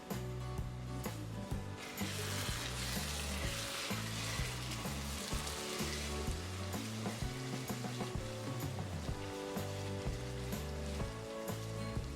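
Diced tomatoes sizzling as they soften in a pan for a Ghanaian bean dish, a steady broad hiss mixed with prominent background music.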